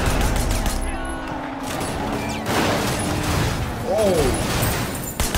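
Gunfire aimed at car tires during a chase in the video game Sleeping Dogs: a few sharp shots and crashes under engine noise, with someone talking over the action.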